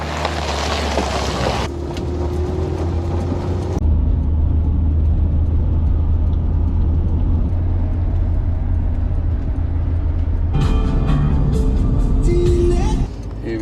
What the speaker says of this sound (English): Here we go, just driving into Whistler.